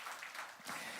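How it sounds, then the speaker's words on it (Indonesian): Faint applause from a church congregation rises briefly, a soft, distant patter of many hands clapping with no voices over it. "Tepuk tangan yang meriah buat Tuhan kita."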